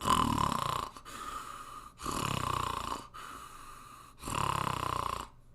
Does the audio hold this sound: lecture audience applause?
no